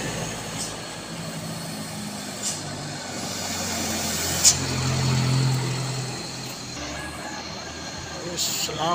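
A car engine strains and roars steadily up a steep climb on the Kedabuhan hill road, loud and close throughout, with occasional thumps and rattles over the drone.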